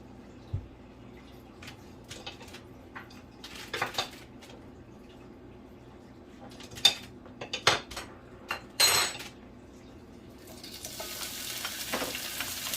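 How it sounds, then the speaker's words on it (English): Vegetables and sofrito cook in a little light olive oil in a hot pan for beef empanada filling. Scattered clinks and utensil taps come first, then a broad sizzle swells up near the end. "I got a little bit of extra virgin light olive oil, just a little bit, so I could saute up my vegetables and sofrito."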